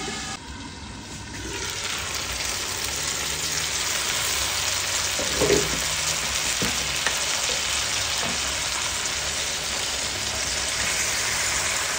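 Chicken fries in oil under a lid in a pan, a continuous dense crackling sizzle like rain, with a few louder pops, no speech.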